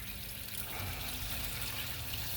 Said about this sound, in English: Let's see how much water is going to be in this darn oil.